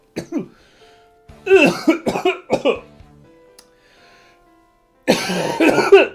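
A person coughs hard several times in quick, rasping bursts with short pauses, ending in a longer coughing fit, close to the listener.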